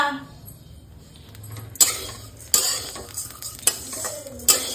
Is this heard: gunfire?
no